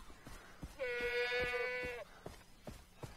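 A goat in Far Cry 3 gives one clear, drawn-out bleat of about a second, set against sharp footstep-like ticks and faint game ambience.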